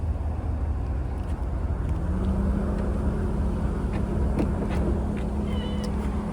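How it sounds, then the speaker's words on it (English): A 2014 Chevrolet Suburban 1500 LTZ power liftgate opens with a steady electric motor hum that starts partway through and holds, over a constant background hiss. "Power liftgate."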